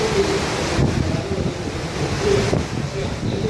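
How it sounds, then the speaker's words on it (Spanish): Strong wind buffets the microphone on the Ortiz bridge in Cali, Colombia, in a loud, continuous rush, with a couple of sharper gusts standing out. "Viento es muy fuerte"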